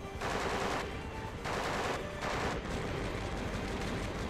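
Sustained automatic gunfire from Conflict: Desert Storm 2 on PS2 rattles in continuous bursts with brief dips between them, dense and steady throughout the scene.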